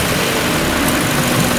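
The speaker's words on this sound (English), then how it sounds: "As soon as I pull up on this throttle cable, the fans automatically kick in, both of them." A Mazda Miata engine idles while both electric cooling fans run, making a loud, steady, close whooshing drone with no breaks.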